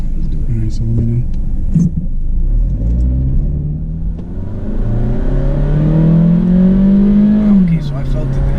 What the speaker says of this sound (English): So just rev it all the way down, and once it clicks, it'll remain in the higher RPMs